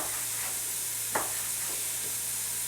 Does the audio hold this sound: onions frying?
yes